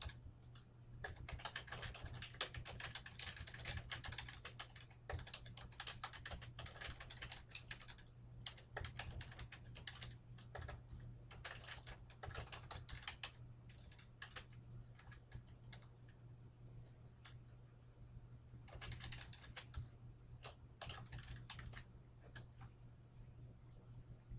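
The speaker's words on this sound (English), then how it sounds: "So go ahead and type that in." Fingers typing on a computer keyboard in a quiet office setting, with rapid irregular key clicks in bursts and brief pauses, close and steady over a low electrical hum, no talking.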